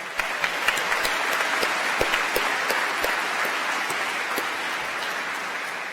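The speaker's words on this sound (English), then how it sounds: "can we give John Pertell another round of applause for his student address?" Steady, dense applause from a commencement audience at a 2025 College of Engineering ceremony, honoring the student speaker's address. The clapping sounds like a full hall, holding at an even level for the whole stretch with no talking over it.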